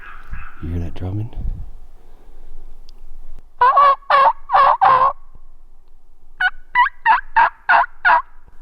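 Wild turkeys on public land gobble in loud, rattling bursts, first one volley and then a second longer run of gobbles, with a low drumming thump and hushed human voices early on.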